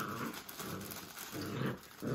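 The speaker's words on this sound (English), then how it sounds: "You can hear them growling because they're playing." Dogs growl while playing, giving a faint, low, rumbling growl that rises and falls in uneven bursts against background hiss.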